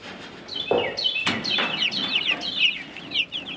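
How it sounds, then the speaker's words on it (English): Young chicks brought outdoors for the first time in spring chirp and cluck in a steady, busy chorus, bright high peeps overlapping throughout, with a few louder close calls standing out. "today's the first day that I brought the chicks out"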